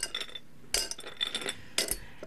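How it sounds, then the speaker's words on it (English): Ice cubes dropped into a glass for iced tea, giving three short bursts of bright clinking spaced about a second apart, close and fairly quiet, with no talking. "I'm going to put just a couple ice cubes."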